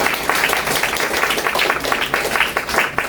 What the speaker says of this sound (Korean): 우리 박수 한번 치고 박수!